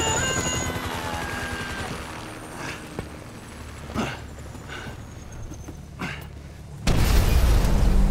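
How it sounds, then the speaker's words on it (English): Helicopter approaching in GTA V, a rising rotor drone building under game sound effects, with a few thuds and a louder burst of noise near the end. "Can you hear that? Chopper, incoming."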